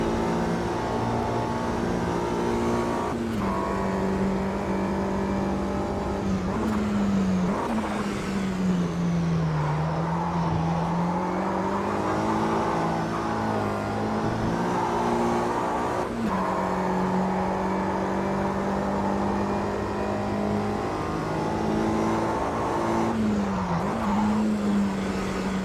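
A 1965 Mini Cooper S races at Sebring in the AMS2 sim, its engine droning steadily close up, the pitch rising and dipping through gear changes and corners, with occasional tire noise and no talk throughout.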